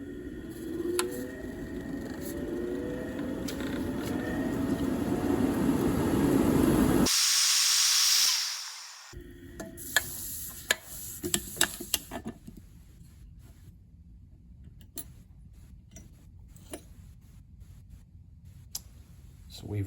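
A laboratory centrifuge loaded with balanced sample tubes spins up with a rising whine under a broad hiss, then a sharp burst of noise gives way to a quieter hum with scattered clicks.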